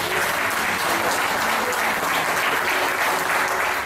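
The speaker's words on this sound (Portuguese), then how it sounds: "dê uma salva de palmas para o Senhor" A church congregation gives a loud, sustained round of applause during a worship service, with thick, continuous clapping that holds steady the whole time and only faint voices mixed in.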